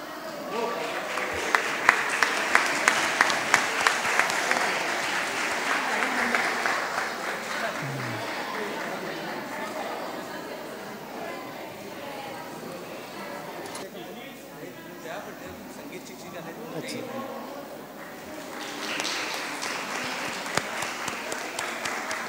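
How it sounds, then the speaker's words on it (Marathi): Applause from the audience at a Sanskrit group singing competition for the winning school team. Dense clapping rises near the start, dies down to quieter room noise in the middle, then swells again toward the end. "विजेते टीमचं परत एकदा जोरदार टाळ्या वाजवून आपण अभिनंदन करूया"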